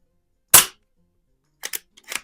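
A single sharp paintball shot cracks out loud and close, followed after a pause by several quieter, quick snapping hits in close succession as a paintball strikes the target.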